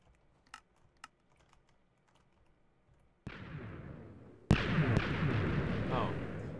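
A sand stacking TNT cannon firing in Minecraft Factions: after a few soft clicks, a loud blast rumbles in, then a second, heavier explosion that sustains a dense roar to the end.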